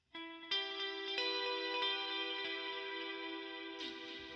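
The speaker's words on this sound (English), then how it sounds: "I'm adding in an analog delay, which is using an 1/8 note dotted delay" A clean ambient guitar tone set up to sound like Thall, run through a dotted-eighth analog delay and reverb; sustained chords bloom with shimmering repeats and a long wash, with a new strum near the end.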